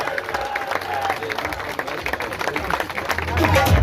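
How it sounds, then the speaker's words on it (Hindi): Audience applause welcoming a guest at a public gathering in Chakswari, a steady wash of many hands clapping throughout, with voices talking over it and the clapping swelling louder near the end. "तालियों में इस्तकबाल किया जाए प्लीज।"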